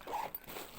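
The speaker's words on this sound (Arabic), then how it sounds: "بصوا هنا ايه سوستتين" One quick, close zip on a handbag zipper, a short raspy pull with a light click partway through.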